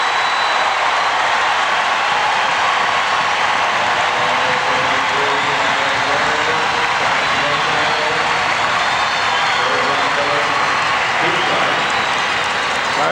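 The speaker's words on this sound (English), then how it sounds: "the crowd loves it here at the Forum" Basketball crowd at the Forum in Los Angeles during a 1984 Lakers versus Celtics finals game, a loud, sustained roar of cheering and applause filling the arena without letup.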